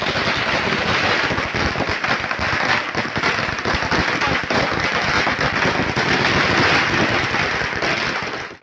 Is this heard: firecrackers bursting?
yes